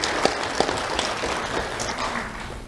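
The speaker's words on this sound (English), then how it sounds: "Let's have a round of applause again for Tasha Diaz." Applause from an audience at a Lee County Sheriff's Office awards ceremony, a steady wash of many hands clapping throughout, moderately loud and fairly distant, with no one speaking over it.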